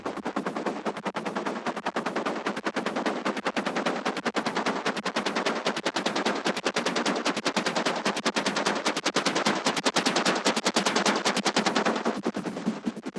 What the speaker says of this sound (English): So the first thing is this sequence sound.